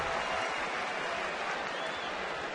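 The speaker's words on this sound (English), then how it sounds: "Even the effort here by Lowell gets a round of applause from the crowd here at Fenway Park" Crowd at Fenway Park applauds a diving play at a 2010 Cleveland at Boston baseball game, a dense, steady wash of clapping and cheering under a commentator's voice.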